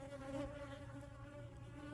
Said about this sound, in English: Those are some big bees.